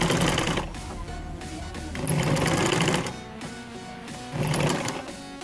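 A sewing machine stitches fabric for a maxi dress neckline in three steady runs, each a loud rapid mechanical whir with short quieter pauses between.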